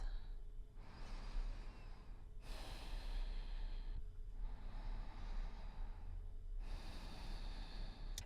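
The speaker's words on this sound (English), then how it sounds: "Take the time to reset here. Deep Ujjayi breaths." Deep Ujjayi yoga breathing, four slow rasping cycles of long inhales and exhales with an ocean-like hiss, close and steady over a faint background hum.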